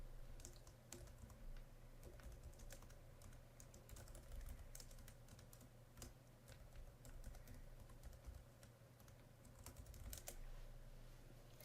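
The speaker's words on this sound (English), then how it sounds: "Type the options students can choose from in each choice field." Steady typing on a computer keyboard, with rapid irregular key clicks running continuously throughout at close range, alone without any talking.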